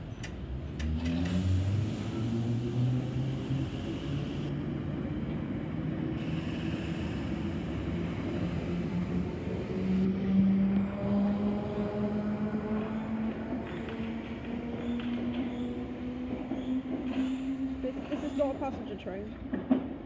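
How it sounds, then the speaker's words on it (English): A passenger train passes through Kensal Green Station in Train Sim World 2, its engine note rising and falling steadily for the full length under a continuous rumble, with voices talking over it. "Passenger train."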